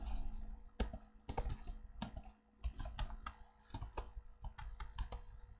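Commands being typed on a computer keyboard, a quick irregular run of close, crisp key clicks and taps with short pauses between bursts.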